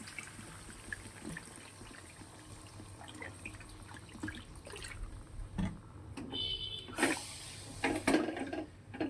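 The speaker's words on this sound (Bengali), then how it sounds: "এবারে আমি জল দিয়ে দেবো।" Water is poured into a pan of spiced curry masala, giving a faint, uneven trickle and splashing that grows louder and more broken toward the end, close by with no talking.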